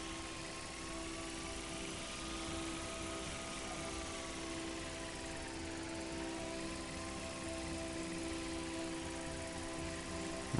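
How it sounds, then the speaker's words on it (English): A camera drone buzzes steadily around a campus in the video game Life is Strange, a continuous whirring rotor drone with a faint wavering tone, loud and unbroken throughout. "give the drone a whirl around campus"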